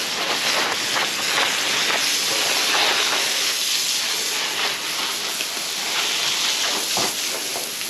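A water sprayer rinses a dog during a bath, producing a steady, close hiss of spraying water that runs almost unbroken, with a brief dip near the end and no talking.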